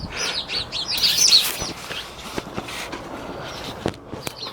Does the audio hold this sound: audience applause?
no